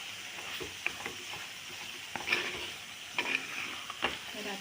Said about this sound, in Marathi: त्यामध्ये मी हे खोबरेल तेल घालते.